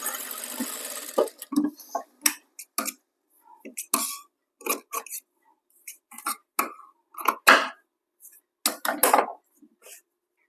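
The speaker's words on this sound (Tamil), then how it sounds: "இப்போ இந்த பக்கமும் ஸ்டிச் போட்டுட்டு லேஸ் முடிச்சிடலாம்" A sewing machine stitches lace onto a blouse sleeve in short, sharp bursts of whirring and clicking, broken by brief silent gaps, loud and close.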